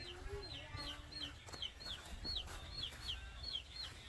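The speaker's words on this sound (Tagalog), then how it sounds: "May mga manok siya." Chickens cluck in short repeated calls spread across the clip, with a steady low farmyard rumble underneath.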